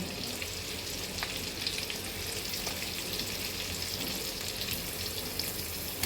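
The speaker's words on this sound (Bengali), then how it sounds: "আমার ঘরে বানানো পনিরগুলো ওর মধ্যে দিয়ে দিচ্ছি। পনিরগুলো হালকা করে সতে করব।" Homemade paneer pieces lightly sautéed in a pan for paneer makhani produce a soft, even sizzle and hiss, fairly faint and continuous, with a few small pops and no talking.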